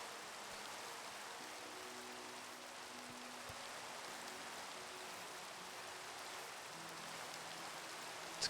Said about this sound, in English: Oh, splendid. Now it's raining.